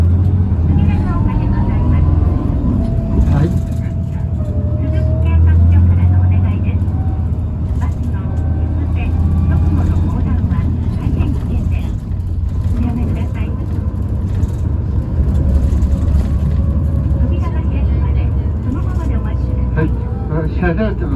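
A Tokyu bus with an abnormal motor noise hums steadily from the inside with a low whine and engine drone throughout, with announcements and voices heard over it.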